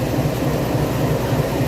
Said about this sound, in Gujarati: ફાઇનલી ટ્રેન અમારી આવી ગઈ છે